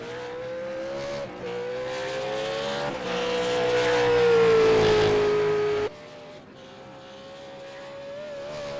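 V8 Supercars race cars sweep through a right-hand bend at Oulton Park, a loud engine note holding steady then rising to a peak before abruptly dropping as one car passes and another follows, with no talk.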